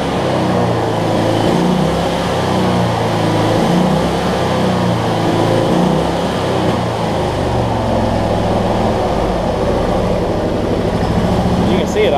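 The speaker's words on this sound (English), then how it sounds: "The one thing I do want to fix, if I can, is the surging." Cub Cadet Z Force zero-turn mower with a Toro deck, its engine running loud and close with a rough, low rumble that rises and falls as it surges from a fuel-starving fault.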